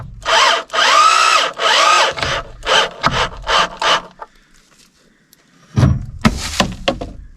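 Cordless power drill driving weatherproof decking screws into wood at a cabin, several loud close bursts of whirring, each a second or so, then a pause and a few shorter rough bursts at the end.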